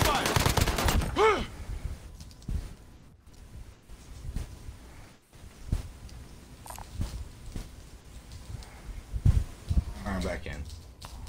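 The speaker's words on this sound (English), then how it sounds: "Incoming round! They're taking fire!" Gunfire in a war video game with an MP40 in play: scattered bursts and single shots crackle throughout, loudest near the start and again toward the end, mixed in with players talking.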